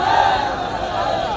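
A large crowd gathered at a political rally in Bihar makes a dense, steady roar of many voices at close range, sustained throughout with a slight swell at the start.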